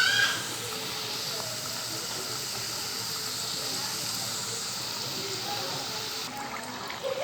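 Veg masala patties fry in hot oil, giving off a steady, close, even sizzling hiss that carries on throughout without a break.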